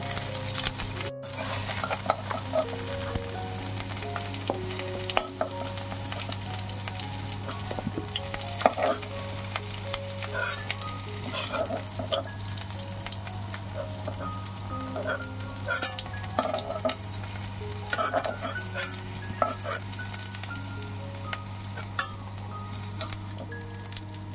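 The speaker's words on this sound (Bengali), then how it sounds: "ফুলকপিগুলো লাল লাল করে ভাজা হয়ে গেছে।" Cauliflower florets frying in oil, a steady close sizzle with scattered pops and occasional utensil clinks over a constant low hum throughout.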